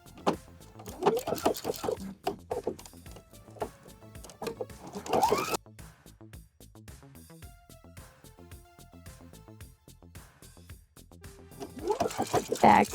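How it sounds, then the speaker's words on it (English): A sewing machine stitches horsehair braid binding folded over a garment hem, giving a close whirring run of needle strokes in bursts, with quieter mechanical pauses between them and no speech over the stitching. "it's time to stitch it out"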